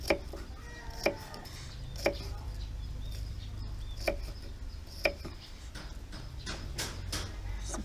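Sharp knife chops slicing bilimbi fruit on a board, about one per second, crisp and close, over a quiet background hum.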